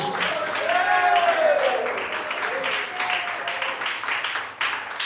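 Church congregation clapping together in steady applause, loud and sustained, with a voice or tonal sound rising and falling over it.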